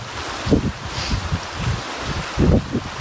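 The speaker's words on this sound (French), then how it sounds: "Oh, même le vent est très fort à la limite." Strong wind buffets the microphone during a violent winter thunderstorm in Montoison, France, with heavy low rumbling gusts swelling and fading in bursts, loudest near the start and end.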